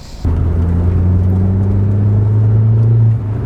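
A 2009 Volkswagen Polo GTI engine pulls steadily through the mid-range below 3,000 RPM, a loud, close, continuous low drone heard from inside the car.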